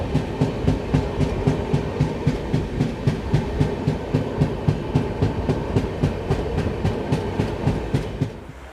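The Chambal Express passenger train runs on rails, with a steady, rhythmic clickety-clack of wheels over track joints repeating evenly throughout, heard close and continuous under a rumbling roar.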